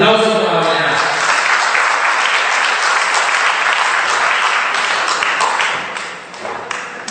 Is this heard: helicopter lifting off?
no